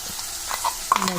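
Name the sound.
ground gravy added to frying onions, stirred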